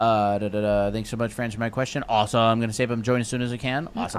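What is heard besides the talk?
No everyday noise stands out behind the speech.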